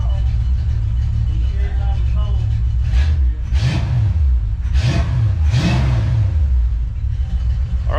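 An abandoned 1973 Ford Pinto Squire Wagon's engine runs nearby through its muffler, idling with a rough rumble and then revved in three or four quick blips before settling back to idle.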